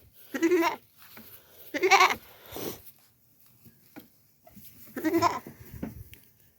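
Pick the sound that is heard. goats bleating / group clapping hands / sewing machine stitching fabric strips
goats bleating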